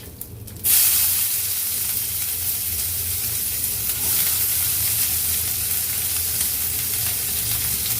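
Sudden loud sizzle as chopped onions drop into hot oil, then a steady crackling fry that hisses on without pause.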